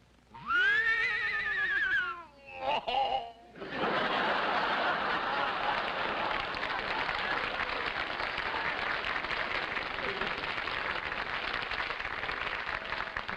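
A person imitates an English horse whinny, a loud shrill neigh with a snorting finish, followed by a burst of sustained applause from a studio audience.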